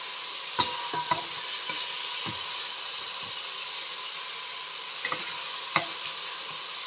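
Meat frying in a pot for homemade pilaf gives a steady, fairly quiet sizzle and hiss, broken by a few scattered light clicks and stirring taps, close by and alone.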